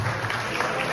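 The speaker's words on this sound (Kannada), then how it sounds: "ಜೋರಾದ ಚಪ್ಪಾಳೆ ಮುಖಾಂತರ" Loud applause welcoming guests at a Kannada film teaser launch ceremony, a dense wash of clapping from an audience, steady and full throughout.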